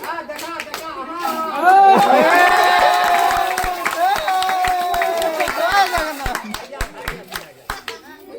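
Audience clapping at a magic show on a television talent stage, a sharp run of separate claps spread through the clip and standing out clearly, with loud talking and cheering over them in the middle.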